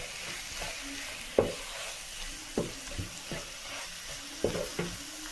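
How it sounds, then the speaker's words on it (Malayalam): Spicy Kerala mussel masala fries in a pan, a steady sizzle broken by several distinct spoon scrapes and knocks as it is stirred, with no talk. "ഇതും കൂടി കൂട്ടിയിട്ട് നല്ല പോലെ അങ്ങ് ഇളക്കാം."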